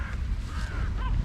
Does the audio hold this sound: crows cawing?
yes